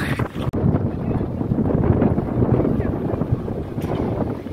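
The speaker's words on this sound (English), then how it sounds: "the wind is crazy." Strong wind buffets the microphone outdoors, a loud continuous low rumbling roar with gusty fluctuations throughout, masking any other sound.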